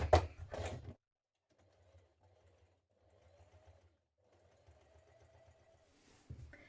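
A sewing machine runs a zigzag stitch on a backpack in several short bursts, a quiet whirring hum that starts and stops, after a louder thump of handling at the start.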